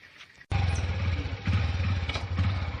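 After a brief quiet moment, a motorcycle engine starts up and runs close by with a low, throbbing putter that rises and falls.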